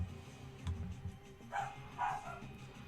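A dog with a harness gives a few short, plaintive vocalizations, whiny yips rising into brief howling bursts against a low indoor background, close and moderately faint, with no one speaking.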